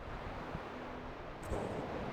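Offshore wind blows across an empty surf spot, a steady rushing buffet of wind with faint surf beneath and a brief gusty bump near the end.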